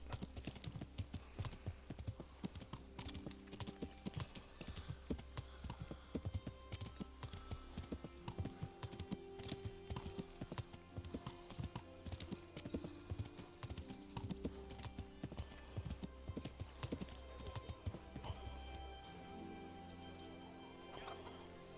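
Steady clip-clopping of a horse's hooves in the medieval video game Kingdom Come Deliverance, a continuous rhythmic gait over a low rumbling background with a faint whinny near the end.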